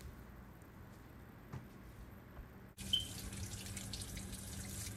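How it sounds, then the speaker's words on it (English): Warm tap water runs into a sink for washing fruit such as strawberries, starting with faint trickles and drips before the faucet opens fully into a steady, close splashing stream. "Wash your fruit under warm water."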